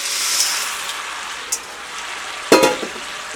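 Popcorn tipped into hot caramel in a pan gives a soft continuous sizzle with a few sharp scraping stirs, one louder clattering burst near the end, with no talking.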